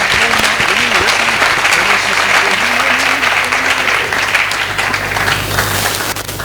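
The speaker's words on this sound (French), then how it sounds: "Nous acceptons de l'accueillir en applaudissant au nom du Seigneur." Loud, sustained applause fills a church assembly hall, dense clapping from a large congregation over a low sung or spoken voice line that wavers underneath.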